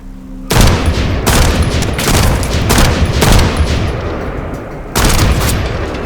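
Heavy weapon fire in the shooter video game The First Descendant, loud booming volleys starting abruptly and repeating in a rapid, dense rhythm, with a fresh burst near the end.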